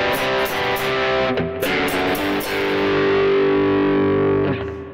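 Electric guitar run through a tube-style distortion effect with plate reverb, a few loud sustained distorted chords, the last ringing out and decaying into a reverb tail.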